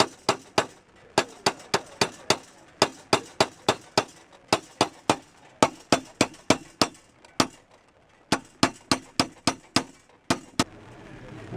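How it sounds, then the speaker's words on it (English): A tinsmith strikes tin on an antique 1760 swedge at an 18th-century market fair, a long series of sharp, ringing hammer blows in quick steady bursts with brief pauses between runs, close and clear. "Now, the tool that I'm using is called a swedge. And this particular swedge is from 1760."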